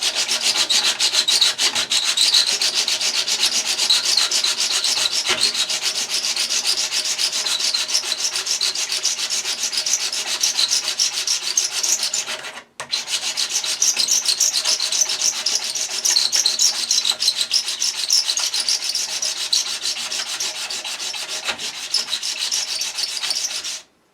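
Steady, continuous rubbing and rasping of a rust removal tool worked back and forth over a metal surface, loud and close, with one brief pause midway.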